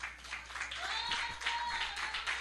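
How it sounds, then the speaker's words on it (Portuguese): A church congregation claps together in a dense, steady patter, heard at a moderate distance with a voice faintly over it. "Palmas, glória a Deus, igreja."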